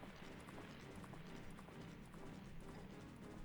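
Rapid hoofbeats of a galloping horse in the video game The Legend of Zelda: Majora's Mask, steady and continuous, with a gritty scraping texture underneath, fairly loud throughout.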